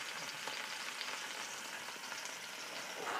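Scallops searing undisturbed in a hot pan give a continuous, even sizzle and crackle, moderately quiet and close, with tiny pops scattered through and no speech.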